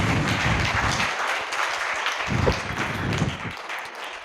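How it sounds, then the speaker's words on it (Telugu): Congregation clapping in a Christian church assembly to welcome the Bible during a youth skit, a broad burst of many hands that swells, then thins and trails off unevenly toward the end. "మనమందరం చప్పట్లు కొట్టి ఆ పరిశుద్ధ గ్రంథాన్ని ఇన్వైట్ చేద్దామా?"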